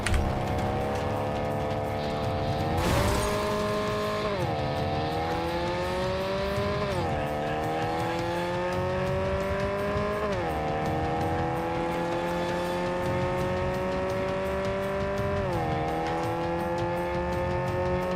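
Car engine and tires while driving in the Cyberpunk 2077 video game: a steady, loud engine drone that climbs in pitch and drops back at each gear change, repeating several times, with no talking.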